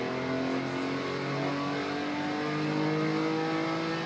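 A Porsche 911 engine revs under throttle at the Nürburgring in a racing video game, holding a loud, steady, close-miked drone with layered harmonic whine that shifts gently in pitch for about four seconds, with no voices.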